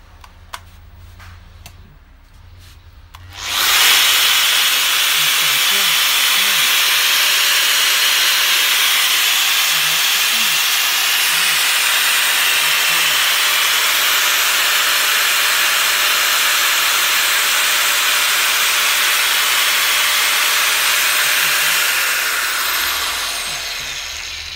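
A Bosch GWS 19-125CI 5-inch electric angle grinder starts after a few quiet seconds and then runs steadily with a loud, continuous high-pitched whine and hiss, close by, before beginning to wind down at the end.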